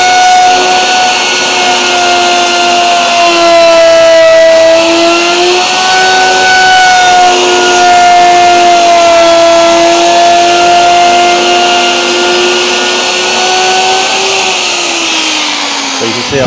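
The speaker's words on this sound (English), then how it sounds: "I'm going to cut out the material now with the router." A handheld router cuts out material while a new door is being hung, giving a loud, continuous high whine that shifts pitch slightly as it moves along the cut, with no break for the full length.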